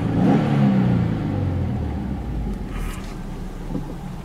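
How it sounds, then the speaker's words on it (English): A 2007 Subaru Impreza WRX 2.5 engine revs up sharply and then settles into a steady, loud rumble, heard close with no talking. "And if I actually just rev the car,"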